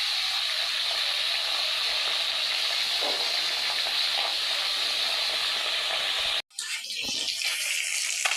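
Bata fish frying in a pan of hot oil, a loud, dense, continuous sizzle that is suddenly cut off near the end, followed by a brief clatter and the sizzle resuming more unevenly.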